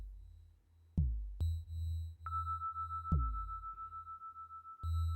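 A Nord Micro Modular synthesizer holds a steady tone while being tuned downward, with sharp plucked attacks that decay over a low droning bed, and a sustained high pitch entering partway through.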